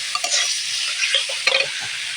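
Laytha fish curry masala is stirred and sautéed in a hot pan, giving a continuous close sizzle and hiss with a few scraping stirs of the spoon.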